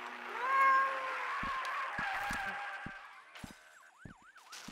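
A cat in the horror game Sally Face lets out a long drawn meow, followed by fainter wavering cries and a few sharp clicks from the game.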